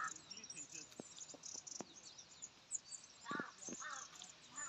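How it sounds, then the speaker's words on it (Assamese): A crow caws a few times among small birds chirping in quiet mountain country near a campsite, the calls short and moderately distant over a faint, still background. "এই সৰু সৰু চৰাইত কাউৰী এটা আহিছে ক'ৰবাৰ পৰা।"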